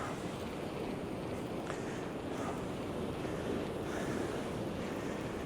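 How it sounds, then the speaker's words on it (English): Big sea waves break on an East Coast beach in rough conditions, a constant loud roar of surf mixed with gusty wind buffeting the microphone, with no voices. "differentiating between a bite and wave noise when the waves are as big as they are is a very difficult thing to do"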